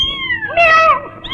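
A man imitates a cat with drawn-out, wavering meows, loud and close, two or three mewing calls with rising and falling pitch in a quiet indoor scene from an old Hindi film.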